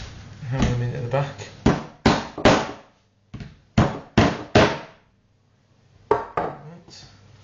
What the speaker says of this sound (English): hammer them into the back.